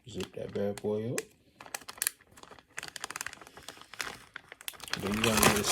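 A plastic zip-top bag holding buttermilk-brined chicken is sealed with a quick crinkling run of plastic crackles and zipper clicks, close and moderately loud, with a person speaking nearby at the start and end.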